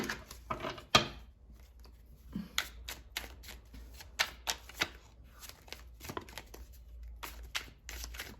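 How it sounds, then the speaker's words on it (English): Tarot cards riffled and shuffled in quick, crisp bursts, close by, with soft taps and slides between the shuffles. "One more shuffle, okay."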